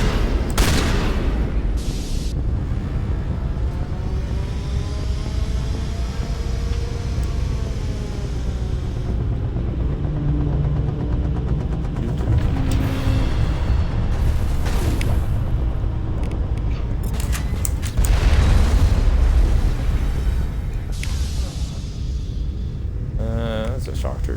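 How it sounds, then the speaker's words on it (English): Shotgun blasts in the video game Mass Effect, heavy booming shots and rumbling impacts layered with game audio, heard loud and close under continuous talking. "Never does it get funny bouncing people around with these shotguns."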